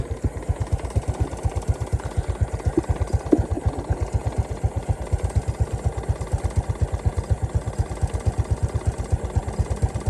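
A motorcycle engine idles on its stock exhaust pipe, a steady close, rapid regular putter of firing pulses with light mechanical clatter, running alone without speech.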